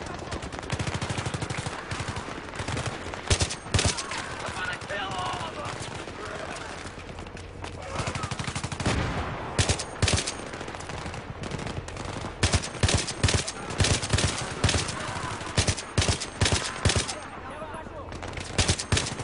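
Gunfire from the video game Battlefield 3 on a combat mission: dense, loud automatic bursts and single shots crackle almost continuously, with voices heard faintly among the shooting.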